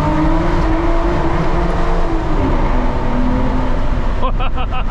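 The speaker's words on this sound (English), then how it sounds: "I pushed it into the rev limiter" An Aston Martin DBS engine revs hard inside a tunnel, a loud, sustained roar that climbs in pitch and echoes, with a stuttering pulse near the end as it hits the rev limiter; a voice can be heard faintly.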